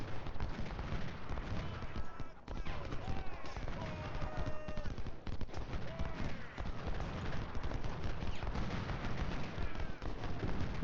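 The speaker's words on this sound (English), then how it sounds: "Oh, the artillery." Artillery fire in the Civil War strategy game Ultimate General: Civil War rumbles as dense, continuous battle noise of cannon booms and gunfire, steady and mid-distance, with someone talking over it.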